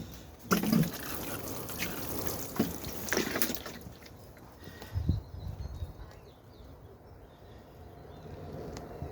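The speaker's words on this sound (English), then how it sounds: "now I'm going to give these a very gentle water." A gentle sprinkle of water falls onto compost-topped modules of freshly sown broad beans, a soft continuous patter with a few louder splashes, no talking.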